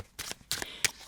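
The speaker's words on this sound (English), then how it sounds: "Another thing you can do with the deck when you shuffle" A tarot card deck is shuffled in three quick, soft riffling bursts, close and quiet, with no voices.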